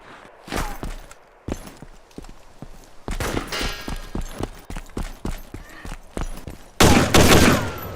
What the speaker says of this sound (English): he started taking shots below me